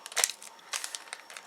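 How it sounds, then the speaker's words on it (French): Scissors cut open the foil wrapper of a trading card booster pack, making a quick series of crisp crinkles and snips, close and fairly quiet, with no one talking. "Plus je prends des ciseaux."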